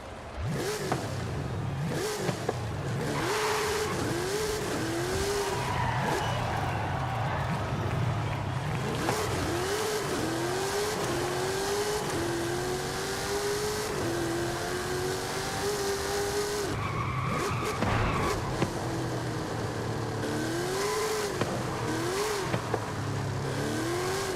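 A lightweight straight-line car in the racing game Forza Horizon 5 roars loudly and close, its engine climbing through repeated rising revs and gear shifts, with tire squeal and skidding mixed in throughout.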